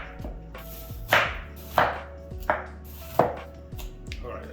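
Onions being chopped with a knife on a board while a bacon jalapeño burger is prepared: a handful of sharp, close cuts spaced irregularly, each a crisp thud with a brief ring, with no talking over it.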